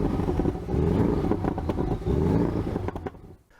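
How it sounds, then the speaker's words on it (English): A Porsche 718 Boxster's engine pulls hard under acceleration, a loud, close, gravelly drone that swells through gear changes and drops away at the end, with no voices over it. "The sound of the 718 is actually quite good."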